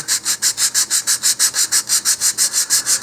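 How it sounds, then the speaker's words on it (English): A rocket fin edge rubbed with 220 grit sandpaper, about sixteen quick, even back-and-forth strokes in a steady rhythm, close and fairly loud with nothing else over it. "I'm going to use a little bit coarser sandpaper. I'm going to use 220 here."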